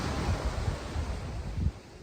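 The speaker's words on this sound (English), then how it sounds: "a little windy" Gusty wind blows by an ocean bay in Portugal, a steady low rumble with soft surf-like swells and a few stronger buffets, with no voices.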